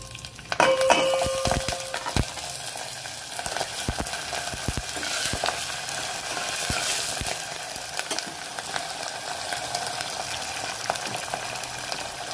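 Curry leaves, dried red chillies and garlic frying in hot oil, giving a steady, close crackling sizzle with scattered sharp pops and a few clinks of a utensil against the pan.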